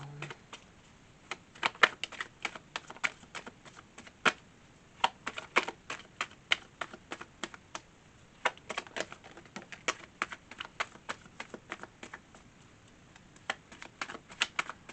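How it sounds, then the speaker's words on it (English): Rapid crisp riffling and tapping of tarot cards being shuffled, in irregular bursts of quick clicks, close and fairly quiet, with no talking. "One more shuffle."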